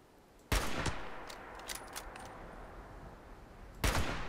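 Gunfire in Fallout 76, two loud sharp bursts of shots about three seconds apart, with a few smaller cracks between them over low game ambience.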